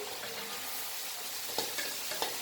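Boiled noodles stirred into frying masala in a hot pan, a steady close sizzle with a few light scrapes of the spoon toward the end.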